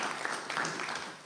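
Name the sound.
council meeting applauding the elected list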